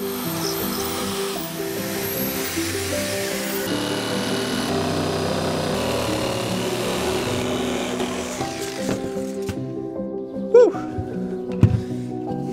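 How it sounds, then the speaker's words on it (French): A jigsaw buzzes steadily for several seconds cutting holes in a camper van to fit a reversible air conditioner, then winds down, followed by a few knocks and scrapes. "on va faire des trous pour glisser la scie sauteuse"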